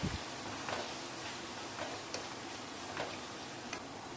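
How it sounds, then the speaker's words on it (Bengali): Potatoes for alur jhuri bhaja frying in hot oil, a dense steady sizzle under light irregular ticking clicks from occasional stirring. "আলুগুলো এবারে ভাজতে হবে ভালো করে।"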